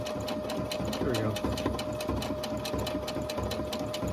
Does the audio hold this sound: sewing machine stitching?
yes